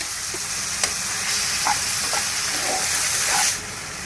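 Tomatoes sizzle as they go into a hot pan with ginger-garlic paste for a soya and potato curry, a steady close hiss with a few soft stirring knocks, then the sizzle drops away sharply near the end.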